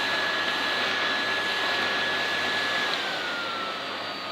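A 1997 Miele S2511 vacuum cleaner running steadily on its minimum power setting, giving a continuous broadband whoosh with a faint high whine that drifts slightly lower near the end, close and alone.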